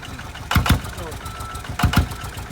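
A vehicle engine idles with a low rumble, two pairs of louder revving bursts rising above it, under a voice.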